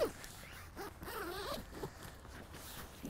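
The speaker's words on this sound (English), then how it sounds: "if I grab hold of one of these zips, we'll ping it open" Zip on a Korda Basix carp fishing mat being pulled open, a short rasping run of teeth lasting about a second, close and clear, followed by soft rustling handling of the fabric.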